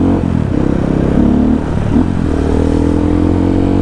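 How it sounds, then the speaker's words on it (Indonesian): A motorcycle engine and exhaust rev close by, a loud, throaty rumble that rises and falls in short bursts over about four seconds with no talking. "Kayak punya dua suara knalpotnya."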